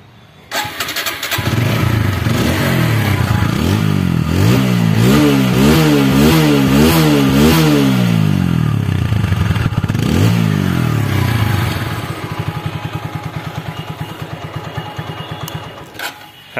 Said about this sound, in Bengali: তো এখন গাড়িটি স্টার্ট করে দেখাবো।